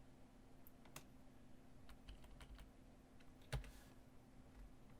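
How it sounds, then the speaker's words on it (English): Quiet keystrokes tap on a computer keyboard, a sparse irregular run of soft clicks with one louder strike near the end, close and alone in a still room. "we can save a step by just typing this"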